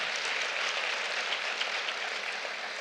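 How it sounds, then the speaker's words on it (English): Broad, steady applause from a keynote audience at a conference hall, continuous clapping filling the space without pause, fairly loud and even throughout. "Yeah, clap."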